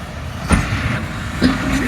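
Train running through tunnels on the Jand route: a continuous loud rushing rumble with two brief bursts of rail clatter, heard close from inside the carriage.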